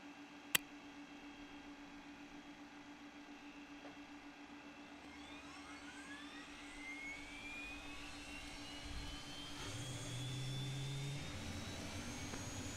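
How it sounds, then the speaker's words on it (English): Twin jet engines of an Aerobask Eclipse 550 start up in a flight simulator game. A single click is followed by a faint, steadily rising turbine whine that spools up over a low constant hum. "So we can go ahead and start engines while we're waiting here."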